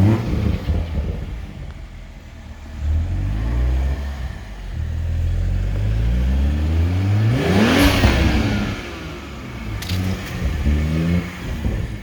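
A stock 2021 Toyota Supra engine revs up and settles several times close by, a deep rumble climbing in pitch with a faint turbo whistle and whoosh riding over it, without talk.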